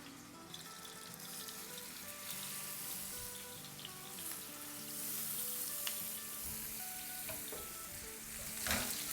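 Seekh kebabs laid into about three to four tablespoons of hot oil, frying with a steady moderate sizzle and occasional clinks and handling noises nearby, no voices.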